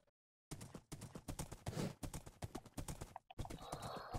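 Rhythmic hoof clip-clop from a horse in a video game, steady and close, continuing for several seconds with a brief pause near the end.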